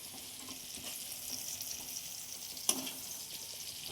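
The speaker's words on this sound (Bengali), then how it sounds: "আস্তে আস্তে এইভাবে আমরা সবগুলো সবজি ভেজে নেব" Vegetables sizzle in hot oil in a wok, including long beans, a soft steady frying crackle with a light clink of a utensil stirring, no voices.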